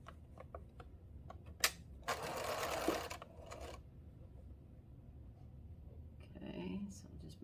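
A domestic sewing machine stitches traditional quilt binding in a short, quick mechanical burst of close rattling whir. Quieter fabric handling and clicks come before and after the burst.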